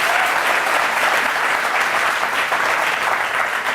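Studio audience applause on a Hindi courtroom-style TV talk show greets a former film superstar, a dense, steady wash of clapping that stays loud and even throughout without pause.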